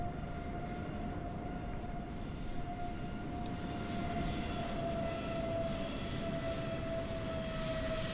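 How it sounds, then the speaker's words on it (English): An Aer Lingus Airbus A320neo in Microsoft Flight Simulator 2020 at Dublin Airport, a steady faint engine drone with a thin sustained whine and one brief click, no voices. "Looks like a 320 Neo Aer Lingus."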